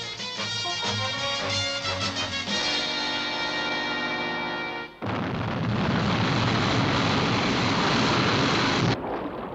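An aircraft lifts off in the TV series UFO, a loud sustained roar that begins as a tonal whine, then jumps into a dense, steady blast of engine noise before cutting off.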